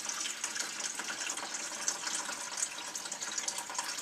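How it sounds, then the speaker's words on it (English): Dirty water is poured off homemade butter into a vessel, a continuous close trickling and splashing stream that keeps going steadily at moderate volume, with no talk. "I'm going to pour the dirty water off the butter."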